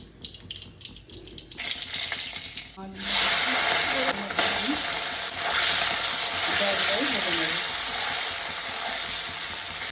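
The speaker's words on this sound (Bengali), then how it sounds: "এই মাছগুলো লাল লাল করে ভাজা হয়ে যাবে।" Small puti fish sizzle in hot oil in a home kitchen, a sudden loud bubbling hiss starting partway in and holding steady, with a voice speaking over the frying.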